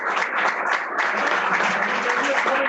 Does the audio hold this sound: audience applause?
yes